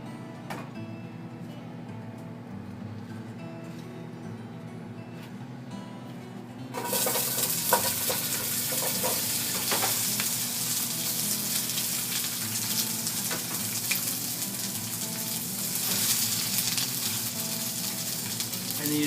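Mirepoix in hot olive oil, bursting into a loud, dense sizzle partway through after a quieter stretch of low hum, then holding a steady hiss of frying alongside occasional stirring.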